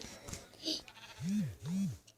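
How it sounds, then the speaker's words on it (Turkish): Two drawn-out sheep bleats from the Minecraft video game, heard close and loud in quick succession near the end, with faint game clicks beforehand. "Koyun."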